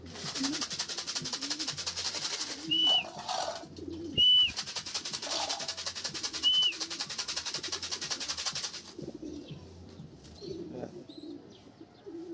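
Pigeons give several short calls at intervals over steady background chatter, with people talking nearby throughout and the scene quieting near the end.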